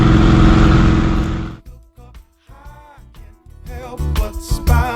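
An orange VW Kombi engine labours slowly uphill in second gear, a loud steady drone that cuts off and returns in uneven revving surges, close and alone.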